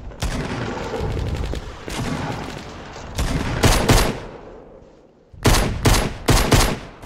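Rapid bursts of video-game gunfire from a Fortnite match, loud and close, with dense volleys and short pauses between clustered shots.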